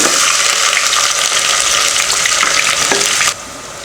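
Spices and onion fry loudly in hot oil inside a pressure cooker, a dense close sizzle and crackle that stays steady for several seconds before dropping suddenly to a quieter hiss.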